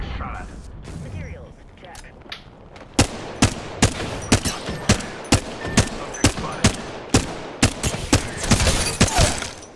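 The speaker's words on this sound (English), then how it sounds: "Getting shot." Rhythmic gunfire in Apex Legends, with a steady series of sharp, evenly spaced shots ringing out loud and close over several seconds, after a busier mixed opening where a voice talks.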